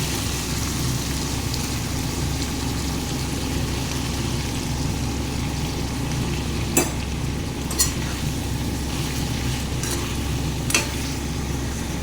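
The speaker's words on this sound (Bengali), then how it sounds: "বন্ধুরা, পেঁয়াজটার সাথে চিকেনটাকেও একসাথে ভেজে নেব।" Chicken pieces and onions sizzle and fry together in a pan for aloo chicken curry, a steady dense crackle with a few sharp stirring clinks of a utensil, no talking.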